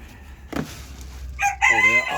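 Bantam ornamental rooster crowing close by, a rising then sustained harmonic call in the second half, preceded by a short bird cluck or chicken vocalization amid low background rumble.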